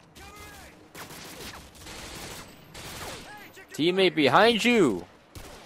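Gunfire in Call of Duty: Modern Warfare 2 crackles in quick bursts and scattered shots, mid-distance, while a radio voice and a player talk over it.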